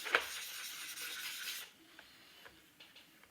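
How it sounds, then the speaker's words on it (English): Close, steady rasping of sandpaper rubbed over a hard laptop case for over a second, then quieter scattered scrapes and light taps. "After I finish with sanding the case"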